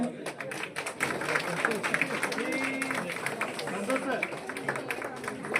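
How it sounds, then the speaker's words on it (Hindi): Group clapping and cheering at a coaching institute celebration of JEE Main results in Guwahati, with lively crowd noise and voices talking over the rhythmic claps throughout. "थोड़ा ताली बजाए"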